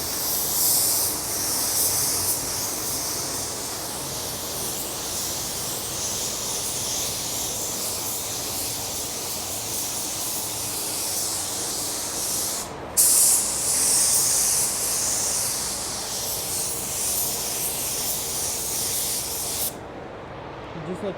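A spray gun lays a wet coat of flake paint onto an SRT car with a steady, loud hiss that runs without pause, except for two brief breaks near the middle and end.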